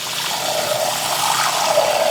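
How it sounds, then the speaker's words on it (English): Water pours steadily into a bowl of dark beluga lentils, a continuous close trickling splash with a bright hissy wash that holds even for about two seconds, with no voices. "add water"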